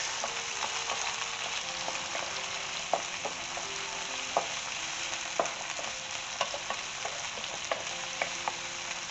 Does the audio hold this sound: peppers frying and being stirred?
yes